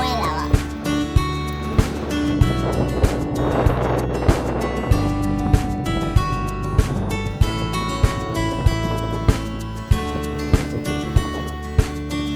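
A houseboat cruising on the Alappuzha backwaters, a steady engine drone with regular clicking knocks and water wash throughout, with voices talking over it.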